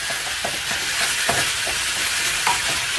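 Beef for a broccoli stir fry frying in hot oil, a steady dense sizzle with small crackles and occasional stirring clinks, close and continuous with no talk.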